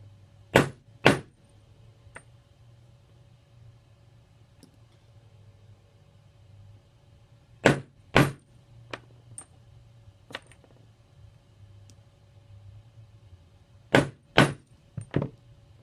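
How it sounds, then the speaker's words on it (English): Sharp metallic hammer strikes on a metal stamp into a metal blank, mostly in pairs separated by long pauses, with a few lighter taps between; close and crisp over a low hum. "tip your stamp to the side without lifting it and then hammer down"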